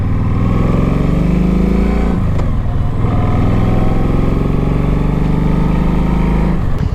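A Kawasaki Nomad V-twin cruiser motorcycle idles steadily up close, a loud, continuous low-pitched rumble with an even throb that holds throughout.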